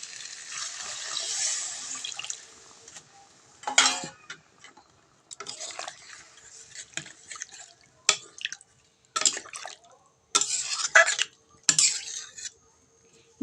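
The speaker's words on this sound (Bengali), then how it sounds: "এই আলুর মধ্যে আমি জল দিয়ে দেব।" Water poured into spiced, fried potatoes in a pan, a hiss of liquid at first, then scattered metallic clinks and scrapes of stirring, close by and in short bursts with pauses between, no talk.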